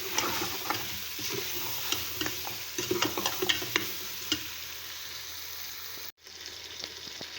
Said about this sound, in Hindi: लौकी और बीफ अच्छी तरह से भून चुके हैं।